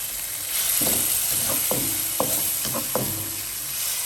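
Pounded chili-garlic paste with coriander root sautés with tamarind water in a pan. A constant hiss runs under it, broken by several spaced spatula scrapes and stirs.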